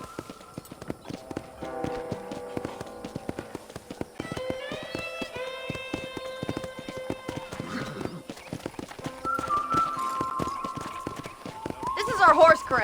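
Horses in a corral in a video game, with steady clip-clop hoofbeats and a whinny over layered musical tones, while people talk throughout.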